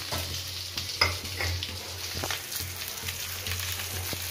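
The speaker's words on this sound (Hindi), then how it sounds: "तेल हो चुका है गरम और ये बाकी का जो मसाला बचा था ये भी इसी के ऊपर डाल देंगे हिला के" Stuffed green chillies and leftover masala sizzle in hot oil in a pan as they are stirred, a steady close frying hiss broken by a few scraping stir strokes.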